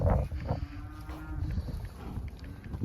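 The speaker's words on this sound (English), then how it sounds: "but now we're putting fresh cattle in it." Cattle moo loudly and close by in an outdoor pen, calls overlapping against steady wind rumble.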